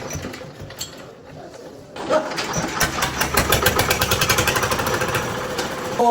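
A machine engine is used to pull a stuck water pump motor and its pipe out of a well at a house. After a quiet start, the engine kicks in and settles into a loud, steady, rhythmic chugging close by.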